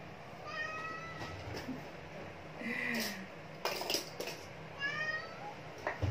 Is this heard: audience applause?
no